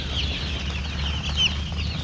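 Chickens cluck on a village farm during windy monsoon weather, a few short high calls over a low rumble of wind, fairly faint and with no voices.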